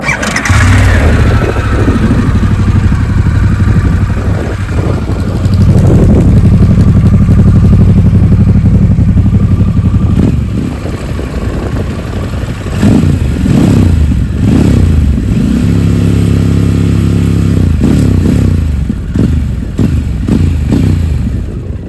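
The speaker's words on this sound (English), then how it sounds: "Let's give her an idle test. Harley boots up." A 2024 Harley-Davidson Pan America motorcycle engine cranks and fires up, then settles into a steady, loud, close idle with a few throttle blips and no talk over it.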